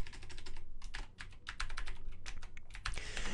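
Fast typing on a computer keyboard while HTML article tags are entered, crisp close key clicks in quick irregular bursts with short pauses, no voices.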